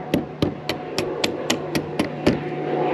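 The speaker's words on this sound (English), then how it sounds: "I'm just gonna get a small flathead and a mallet." A mallet taps a small flathead screwdriver to drive a pin out of an Old Town Sportsman 106 pedal kayak, about ten sharp, evenly spaced metallic knocks, close and distinct.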